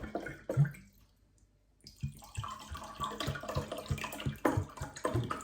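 Tap water pours from a carafe into glasses indoors, a close splashing trickle that stops briefly, then returns as a fuller bubbling pour with small clinks, and no voices.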